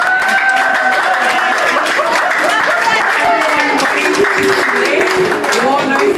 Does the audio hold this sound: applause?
yes